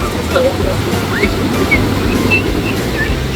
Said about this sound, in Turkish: Çok dalgalı.